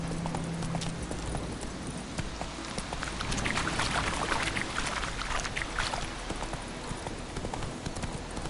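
Roach the horse gallops in The Witcher 3, with a steady, rapid clip-clop of hooves that runs throughout at moderate loudness, alongside faint ambient game sound and no talk.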